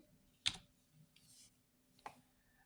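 A computer keyboard tapped a few times while typing a date into a word processor: two sharp isolated key clicks with a softer tap between, quiet room.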